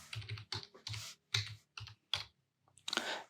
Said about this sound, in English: let's type something, and type the URL of Facebook